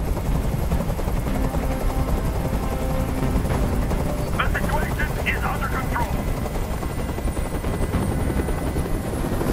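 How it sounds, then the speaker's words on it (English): A helicopter hovers in the video game Detroit: Become Human, its loud, continuous rotor drone filling the scene while a voice speaks over it. "Tell that helicopter to get out of here."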